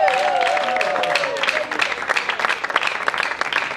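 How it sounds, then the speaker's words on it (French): An audience applauds at a religious wedding ceremony, a steady, dense wash of clapping throughout, with a faint sustained tone fading beneath it in the first half. "est-ce qu'on peut acclamer maintenant?"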